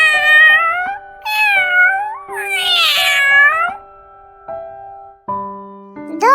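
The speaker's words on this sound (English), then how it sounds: "Cat." A cat meows loudly and up close several times in a row, the long, rising and falling calls set over a soft musical backing.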